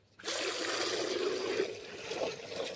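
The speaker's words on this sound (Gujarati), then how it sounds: "આ પાણી આપણે ચાલુ થઈ છે" Water starts to flow with a sudden onset, then runs as a steady trickling, splashing stream, moderately close and fairly soft.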